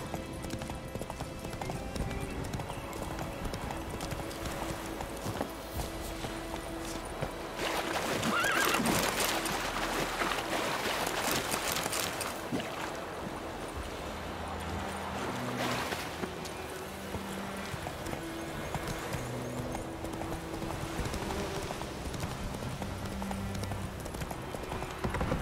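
A horse gallops in The Witcher 3 video game, steady clip-clop hoofbeats with occasional neighs over continuous ambient game sound and music at moderate level, with no speech over it.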